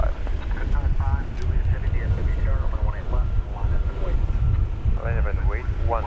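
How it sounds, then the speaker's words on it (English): A Frontier Airlines airliner taking off from runway 18 Left at Dallas/Fort Worth airport makes a steady, loud broadband roar with wind buffeting the microphone. People talk over it throughout. "there goes Frontier Flight 1405 to Ontario"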